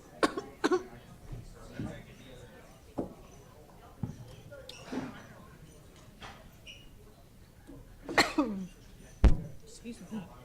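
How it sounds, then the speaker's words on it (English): Coughing into a microphone during a school district governing board meeting: several sharp, close bursts spaced irregularly among soft room noise and faint movement. "I'm coughing into the mic."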